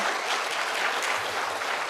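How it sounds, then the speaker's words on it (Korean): A church congregation claps for a choir of married couples after a hymn at a Korean men's mission service, producing a dense, even, fairly loud burst of applause that fills the whole moment with no voices over it. "우리 박수 한번 쳐주시죠"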